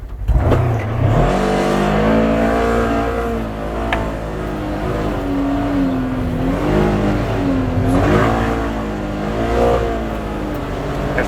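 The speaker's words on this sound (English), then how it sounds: "we're gonna take the Expedition to the same trail and see how much better of a ride it is" A Polaris Xpedition side-by-side is driven fast along a trail, its engine droning loud and steady with rising and falling revs as it accelerates, close to the microphone throughout.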